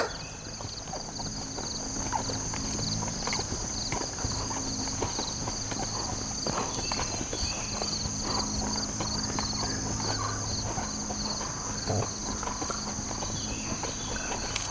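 A horse loping in an arena during a clinic, with steady hoof clip-clops over several seconds, moderately close, along with crickets chirping in the background.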